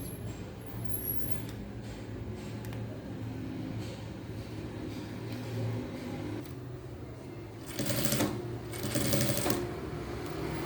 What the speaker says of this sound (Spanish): Y ahora sí aseguramos con alfileres y cosemos.